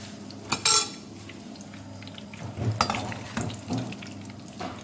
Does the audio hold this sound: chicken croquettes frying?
yes